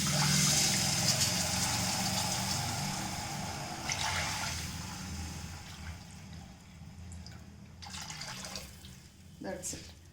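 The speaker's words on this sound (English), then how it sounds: "I am adding my 3 cups of water" Water pours into a pot of roasting moong dal, a broad rushing splash that is strongest at the start and tapers off, with a few clinks of the pot near the end.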